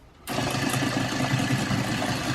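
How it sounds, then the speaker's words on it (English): An electric whisk beats gluten-free orange cake batter, starting abruptly and running as a steady, loud, close motor whirr with a rhythmic rattle for about two seconds before stopping. "So now I'm going to whisk this lot together until they are light and fluffy."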